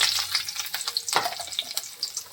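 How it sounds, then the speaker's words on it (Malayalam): Ginger stirred into a frying pan of onion masala for masala dosa filling, a steady close sizzle broken by a few scraping spoon strokes, with no talking. "ഇഞ്ചി ഇട്ടിട്ട് ഒന്ന് ഇളക്കി കൊടുക്കാം"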